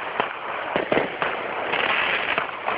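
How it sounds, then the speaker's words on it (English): Distant fireworks crackle and pop in scattered bursts over a steady outdoor hiss, each report faint and soft-edged rather than close and sharp, continuing throughout. "They were popping crazy millions of fireworks earlier."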